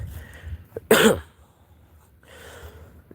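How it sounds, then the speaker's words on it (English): A single sharp cough bursts out close by, followed by a quieter throaty breath or clearing sound. "I'm coughing for some reason."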